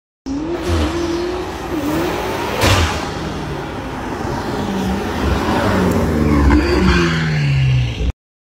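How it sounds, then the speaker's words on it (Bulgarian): A BMW M5 Competition revs hard, its engine note climbing and falling through several loud, close bursts with a sharp spike partway through, the roar sustained for about eight seconds and no talking over it. "Моята любима кола е BMW M5 Competition."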